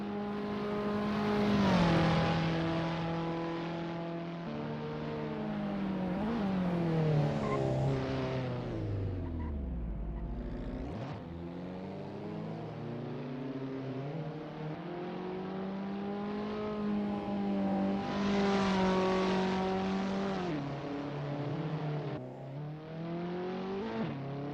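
Abarth 500 cars racing in Assetto Corsa around a Paris Arc de Triomphe street circuit, engines revving up and down through gear changes with rising and falling pitch, loud and continuous, occasional whine and tyre noise.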